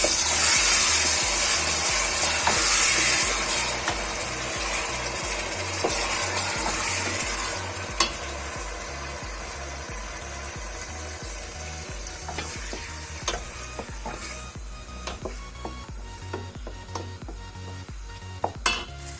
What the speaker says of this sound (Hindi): अब इसमें हम टमाटर और प्याज की पेस्ट डालेंगे